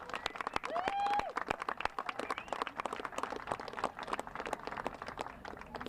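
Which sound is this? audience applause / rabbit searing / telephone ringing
audience applause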